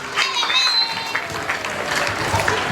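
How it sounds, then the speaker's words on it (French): An audience at a school literary and patriotic contest launch applauds in a dense, steady burst of clapping, fairly loud and close, with some voices mixed in. "Est-ce que nous pouvons les applaudir?"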